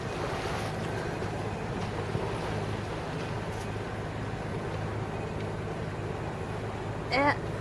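A sailboat motors under engine power on a windless Adriatic Sea, its steady low engine drone and faint water noise running throughout, with a brief voice near the end.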